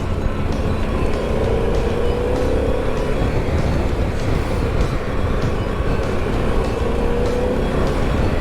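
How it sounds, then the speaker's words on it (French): Harley-Davidson Pan America 1250 adventure motorcycle on a ride, its engine droning steadily with a low airbox rumble, continuous and close under wind noise, no talking. "Ce petit bruit sourd de la boîte à air"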